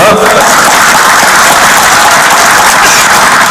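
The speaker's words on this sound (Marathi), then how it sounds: "मग आम्ही बोलल्यानंतर टाळ्या वाजल्या" A rally crowd at an outdoor public meeting in a market ground in Akole claps loudly and continuously, a dense wash of applause filling the whole stretch without any talk.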